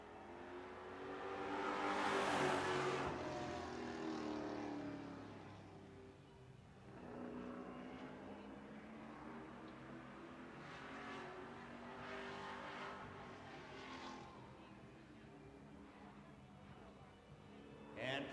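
Bomber class race cars roll out to qualify at Redwood Acres Raceway, engines droning and revving at a distance for a long stretch, with a loudspeaker voice talking over them.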